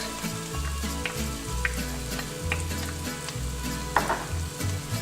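Garlic hits a pan of softened onions and leeks for a Maltese cauliflower stew. A loud, continuous sizzle and fry runs close, with a low hum beneath and occasional sharp clicks of stirring.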